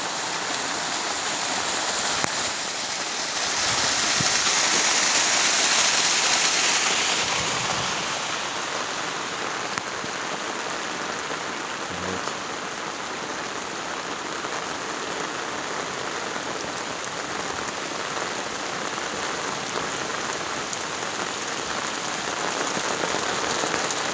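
Heavy rain pours down steadily, with water cascading everywhere like a waterfall; a dense, loud, continuous wash of drumming and splashing that never lets up, with no talking.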